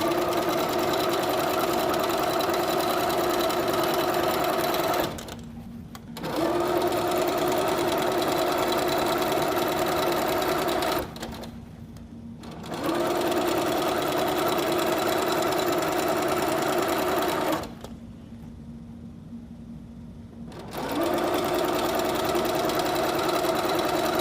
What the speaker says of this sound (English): Almost got all of our strips sewn together.